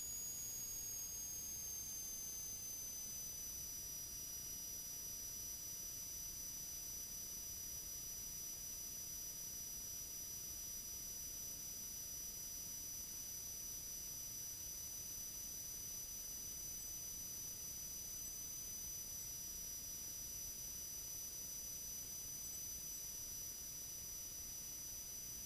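A Subaru-powered RV-7A experimental airplane cruises over the beach near Arcata with the prop pulled back, heard from inside the cabin as a constant loud drone with a steady high tone, unbroken for the whole stretch and no talk.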